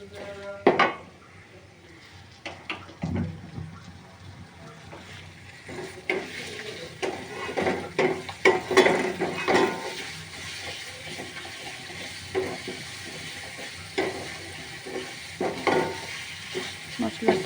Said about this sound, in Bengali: এবার মশলাটা আমি ভুনে নিচ্ছি।